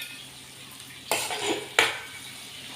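Tomatoes drop into a pan of potatoes cooking on the stove. A steady sizzle runs throughout, with two sharp clattering hits of utensil against pan, close and without talk.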